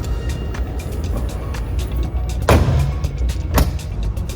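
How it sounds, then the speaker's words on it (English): A 2022 Porsche Taycan, the entry-level electric model, rolls along with a low steady road and cabin hum, punctuated by a couple of brief sharp knocks or bumps, heard from inside without any talking. "here we are driving now the 22 Porsche Taycan"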